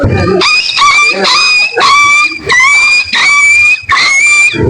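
A person imitates a dog barking with loud, repeated yelping barks in a steady series of about six bursts, close and prominent, with no other sound competing.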